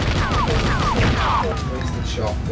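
A sharp gunshot and a few thudding impacts sound in the Silent Scope light gun game, close and loud within a brief busy game mix.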